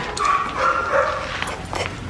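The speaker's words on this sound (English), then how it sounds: "You have a dog." A dog barks in an indoor waiting area, giving a few yips and barks spread across the moment, fairly close and moderately loud, with no one speaking over it.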